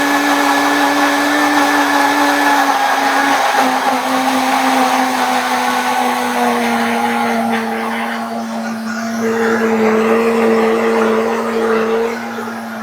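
A kitchen blender with a mismatched replacement jar whirs loudly and continuously at high speed, its steady motor whine sinking slightly in pitch as the contents thicken and rising again near the end.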